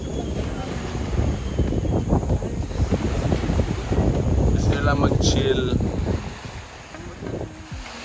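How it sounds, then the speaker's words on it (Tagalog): Strong wind gusting along a white-sand seashore, rumbling into the microphone as loud buffeting noise, with a person talking over it before the gusts ease near the end. "Lakas ang hangin."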